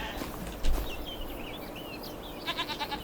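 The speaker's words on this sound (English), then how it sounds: "That is one of our fresh baby goats." A baby goat bleats in the Farming Simulator 25 video game, several short wavering cries coming in a quick run near the end over a steady outdoor farm ambience, with no talking.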